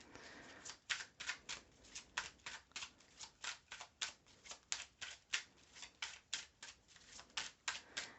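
A deck of cards shuffled close up in a steady rhythm, about twenty crisp, evenly spaced riffling bursts, alone in a quiet room.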